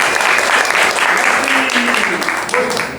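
A brief burst of close, lively clapping from a group welcoming a capoeira master, dense and continuous with a faint voice or two underneath.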